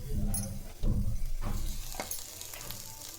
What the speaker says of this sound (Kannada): ನಾವು ಈ ಟೊಮೊಟೊನ ಸ್ವಲ್ಪ ಹೀಗೆ ರೌಂಡಾಗಿ ಹಾಕ್ಕೊಳ್ಳೋಣ